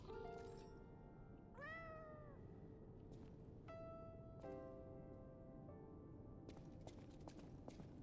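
A cat wearing a bell meows in the Lies of P video game, giving a few distinct rising and falling meows with a bright chime between them over a quiet game ambience.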